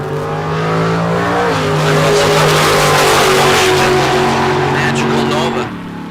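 White 1967 Camaro launching in a drag race, a loud engine roar rising in pitch with tire noise, close and sustained, ending in a sharp drop as the car pulls away.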